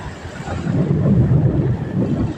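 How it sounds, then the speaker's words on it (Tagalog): Large ocean waves churn under steady wind buffeting the microphone, a continuous low rumbling wash that swells slightly through the moment with no clear individual breaks. "Yan po kasi ang kalaki po talaga ng alon dito"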